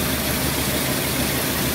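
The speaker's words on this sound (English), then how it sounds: "But she's running, she's idling good." A 1979 Buick Park Avenue engine idles steadily up close, a continuous low, even rumble with no other sounds.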